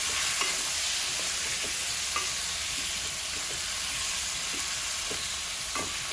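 Tomatoes being spread across a cooking pan for a tomato and green chili pulusu, giving a steady, fairly soft sizzle with light, intermittent scraping taps and no talking.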